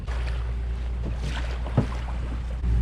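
An outboard motor hums steadily on a boat on a river, a low continuous drone with water and wind noise around it and a brief knock near the end.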